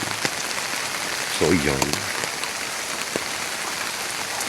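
Steady rain patters on flowering garden plants and surrounding surfaces in a dense, even hiss, with a few louder drips and a brief spoken phrase from a nearby voice partway through.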